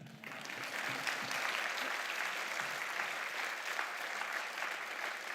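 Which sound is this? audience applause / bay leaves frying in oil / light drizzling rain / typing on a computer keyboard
audience applause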